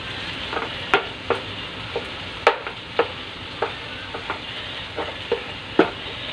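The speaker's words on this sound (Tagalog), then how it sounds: "Dinudurog ko ng kaunti ang ating kamatis para mas lumasa." Tomatoes being crushed and stirred in a pan while salmon sarciado cooks, with repeated sharp spoon taps and scrapes over a steady soft sizzle, close and moderately loud, no talking.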